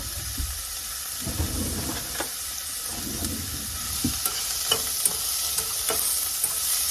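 Onions fry in a pan with a steady low sizzle, broken by scattered clicks and scrapes as they are stirred, close and moderately quiet, with no talking.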